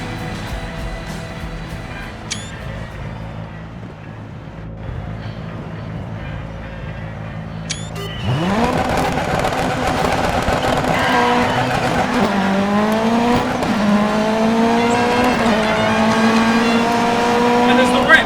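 Rallycross race cars in the game DiRT 3 idle and then roar off together, engines climbing through rising revs with tire noise as several cars slide for grip, loud and continuous, with a commentator talking over them.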